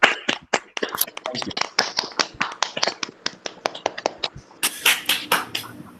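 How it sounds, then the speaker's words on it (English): Sparse, uneven hand claps from a small audience at a talk on feminism, crisp and close, with a brief spoken thanks among the claps before a denser burst near the end. "A round of applause for Alan"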